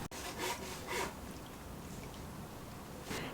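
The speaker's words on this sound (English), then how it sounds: "Found this plank. I'm cutting off the excess to put it there" A hand saw cuts a wooden plank aboard a river boat with a few slow, rasping back-and-forth strokes, close but fairly soft, and no talking.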